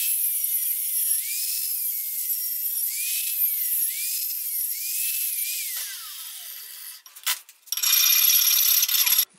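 A high-pitched drill whines steadily while boring a screw hole, its pitch wavering in repeated swells before cutting out and briefly restarting, with no talk.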